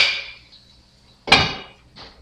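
A metal lid is set onto a cooking pan, giving a sharp ringing clang with a short metallic decay and a fainter second clink shortly after, close and clear against quiet.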